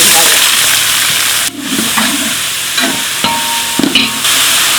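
About 1.5 kilograms of onions frying in a large pot while being stirred, a loud continuous sizzle with scraping stirring strokes and brief pauses, and a voice speaking over it.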